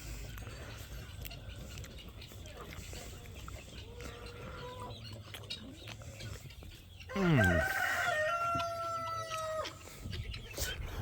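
A rooster crows once partway through, fairly close, over a quiet outdoor background with faint rustling.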